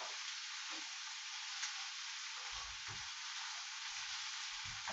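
Radicchio sizzles steadily in a pan of hot olive oil, a continuous bright frying hiss throughout with a few soft low thumps and stirring knocks underneath.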